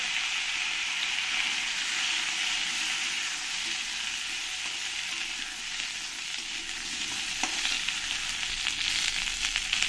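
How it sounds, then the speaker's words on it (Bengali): Potatoes frying in oil left over from frying fish, a steady, dense sizzle close by that holds at even loudness throughout with no talk. "এবার আমি এই মাছ ভাজা তেলের মধ্যেই এই আলুগুলো আমি ভেজে নেব।"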